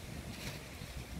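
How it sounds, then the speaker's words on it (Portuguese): Wind gusting through trees during a light drizzle on a farm, a dense, continuous roar with buffeting against the microphone, loud and close, with no voices. "O vento tá rasgando todinho a lona."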